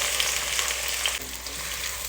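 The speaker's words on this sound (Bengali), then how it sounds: "এখন এগুলো একটু ভেজে নিব" Steady crackling sizzle of chopped onions and whole garam masala frying in hot oil, a dense hiss that continues without a break and eases a little partway through.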